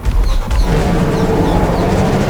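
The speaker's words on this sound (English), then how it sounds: "it has a terrifying roar that sounds like this." A deep, rumbling Yutyrannus dinosaur roar from Ark: Survival Evolved, loud and gravelly, filling the whole stretch with low growling noise.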